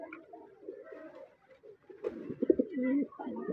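Kala Sabuj pigeons coo close by in soft, throaty, rolling phrases that swell louder toward the end.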